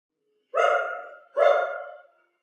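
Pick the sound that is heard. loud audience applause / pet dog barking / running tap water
pet dog barking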